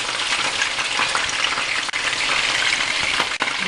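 Breaded chicken breast frying in a pan gives a steady, dense sizzle throughout, close and fairly loud, with two brief dips in the crackle.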